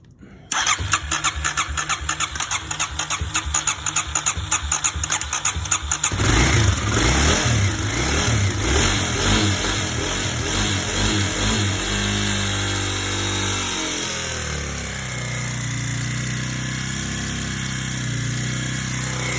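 A 2009 Kawasaki KLX250S motorcycle engine fires up after a carburetor cleaning and fresh fuel, cranking into a loud, steady, close idle that rises briefly then settles into a lower even run.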